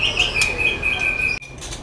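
Medan oriental magpie-robin (murai) songbird in a cage, a clear high whistled note held steadily with short chirps, close and bright, that cuts off abruptly near the end.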